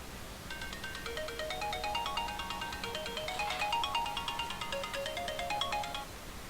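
A phone ringtone plays a bright, repeating melodic tune for about six seconds, steady and fairly loud against a faint background hum, with no talking.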